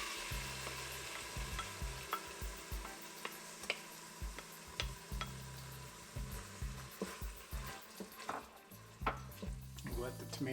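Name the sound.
tomatoes frying and being stirred for khichdi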